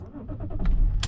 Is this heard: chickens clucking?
no